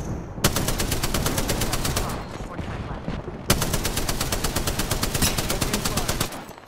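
Rapid automatic gunfire in Apex Legends, two long loud bursts of densely repeated shots separated by a brief lull, close and filling the whole stretch.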